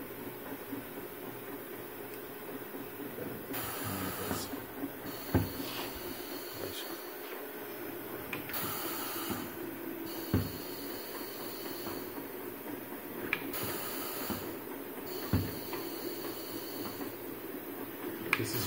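A bottle filling and capping machine runs in auto mode, giving a continuous mechanical hum with repeated bursts of hissing air and solenoid clicks at a fairly regular rhythm.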